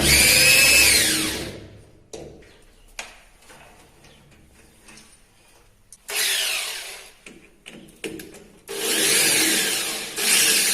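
A power drill removing screws from a door closer whirs in loud bursts at the start, middle and end, with quieter clicks and handling noises between the runs.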